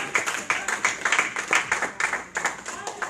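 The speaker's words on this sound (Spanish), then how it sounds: "aplauda al Señor de la gloria" Church congregation applauding during a Spanish-language service, a steady, continuous patter of many hands, fairly close, with voices mixed in underneath.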